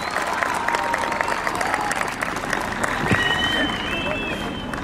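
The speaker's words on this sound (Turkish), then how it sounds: "ev sahibimiz Sayın Ömer Arasoy Beyefendi alkışlarınızla huzurlarınıza davet ediyorum" Audience applause at a municipal ceremony for amateur sports clubs in Zeytinburnu, welcoming the mayor: dense, steady clapping from a crowd in a hall with some murmuring voices.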